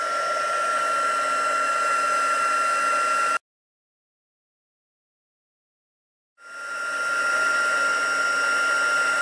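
Heat tool on its number 2 setting blowing hot air in a steady, loud whooshing roar that cuts out completely for a few seconds, then builds back up to a constant blow.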